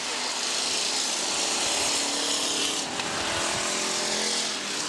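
Stock cars racing at Jefferson Speedway in 1989, a steady loud engine roar with broad rasping noise filling the whole stretch, no clear pass-by peaks and no voices.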